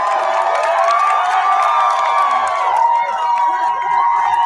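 A crowd cheers and shouts at an Apple Vision Pro launch, a loud, continuous wash of excited voices that carries on without a break.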